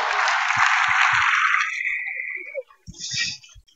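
Applause after a closing plenary speech at a regional open-government conference: a loud, broad wash of clapping for about two seconds that tapers off, followed by a short renewed patter.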